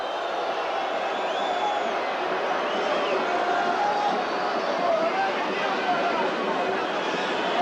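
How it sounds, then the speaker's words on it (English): Stadium crowd at an Olympic football final in Seoul voicing displeasure at a referee's decision, a continuous dense roar of whistles and shouting heard from a distance, steady throughout, with a commentator speaking over it. "And the crowd obviously don't agree with the French referee."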